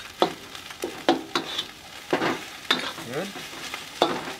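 Cooked rice for Indonesian nasi goreng stirred in a hot pan, sizzling steadily while a utensil scrapes and tosses in repeated sharp strokes about every half second; a brief spoken word sits among the stirring.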